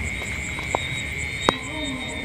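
Two short, sharp frog croaks stand out, spaced evenly about a second apart, over a steady high insect drone and low rumble in a rural field at night.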